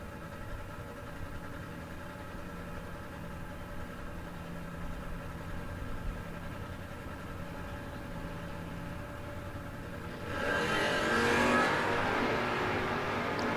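A drag race car at a no-box 660 shootout idles with a low steady rumble at a distance, then its engine swells into a louder revving roar for the last few seconds.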